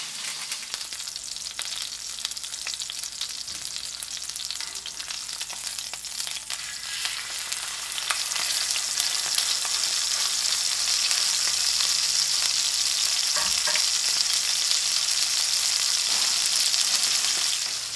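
Sous vide steak sears in a hot pan, a steady broadband sizzle throughout that grows louder and denser about halfway through, close and continuous with no talking.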